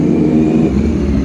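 Rental motor vehicles, hired out by the hour, roar loudly past close by with a steady engine drone and whirring, filling the short moment with no pause.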